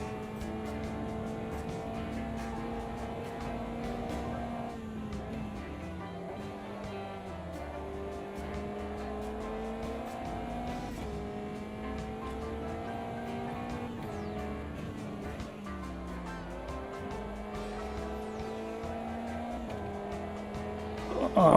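A race car drifts through a corner in a sim racing game, its engine droning steadily with rising and falling pitch as the revs change, with a faint tyre scrub as all four wheels slide.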